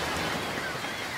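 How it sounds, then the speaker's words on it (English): Steady rain hisses evenly throughout, a dense wash of falling drops with no pauses, tied to a scene of rain falling over an ocean under clouds. "It begins raining."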